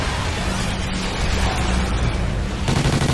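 A gun firing in burst mode in Call of Duty: Ghosts Extinction, heard as a dense run of sharp, loud, close shots that carries on through the whole short stretch without talk over it.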